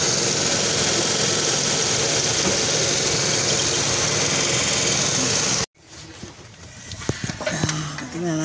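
A car engine idles steadily and loudly up close during a thermostat check, then cuts off abruptly, followed by quieter clanks and handling noises.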